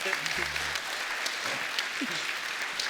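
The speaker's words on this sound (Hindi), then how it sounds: "इनके लिए जोरदार ताली" A studio audience applauds at a comedy talk show, with steady clapping throughout a short stretch and a faint voice beneath.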